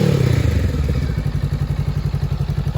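A 2017 Honda CMX500 Rebel ABS motorcycle engine is revved close by, the roar settling into a loud, even, throbbing idle.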